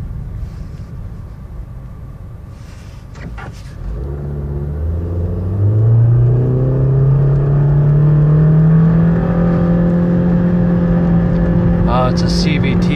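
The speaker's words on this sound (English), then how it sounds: "Try a wide open throttle run, see if it got any power" A 2014 Nissan Versa with a CVT transmission accelerates at wide open throttle from a low rumbling idle, its engine drone climbing steadily and then holding a sustained high pitch, loud and close inside the cabin.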